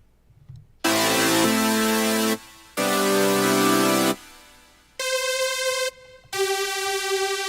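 Loud synth notes in blocks: a thick buzzy saw bass with chords, then a brighter lead line, separated by short gaps.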